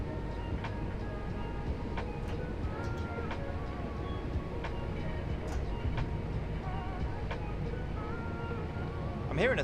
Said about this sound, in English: I'm hearing a slight rattle on this unit